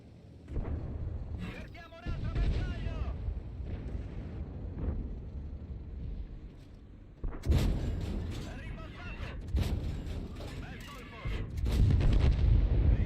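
A tank's ammo rack detonating in World of Tanks, heard as heavy booming blasts and gunfire-like rumble with a voice talking over the battle noise.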